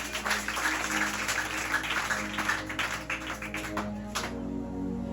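A congregation at a religious gathering claps and cheers steadily in dense applause, with music continuing underneath.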